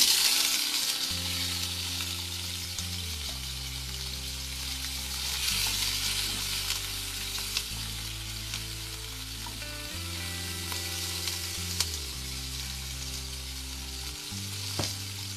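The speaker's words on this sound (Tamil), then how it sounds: "இது 3த்தையும் வந்து நம்ம தாளிக்கணும்." Oil sizzles and crackles steadily as curry leaves, onion and tomato fry, with a low steady tone underneath and occasional stirring clinks.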